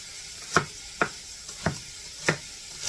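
Bacon being stirred in a pot of bean and bacon soup, a spoon scraping in regular strokes about every half second over a faint sizzle.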